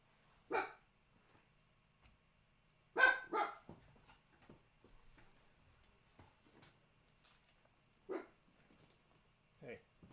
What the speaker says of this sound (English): Sorry, the dog's right there